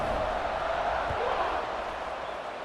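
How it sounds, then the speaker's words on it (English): A steady crowd buzz fills a college football video game stadium after a score, a broad continuous roar of many voices at moderate level without distinct cheers or spikes. "this crowd is buzzing after that last score"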